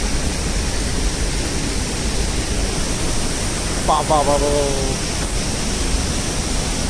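A powerful hidden waterfall at Aamla village, Suryamal, swollen after rain, roars in a steady, loud broadband wash, with a brief male call rising over it midway.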